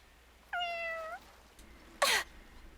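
Cats meowing in the video game Fire Emblem Engage: one clear, drawn-out synthesized meow, then a short, sharp, noisy cat cry a moment later, with no talking.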